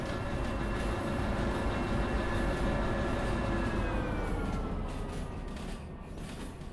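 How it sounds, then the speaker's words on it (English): A train rolls steadily in the Derail Valley video game, a continuous loud rumbling drone of wheels and carriage with faint high whining tones, holding constant throughout with no talk. "So we want to get the back of the train here now."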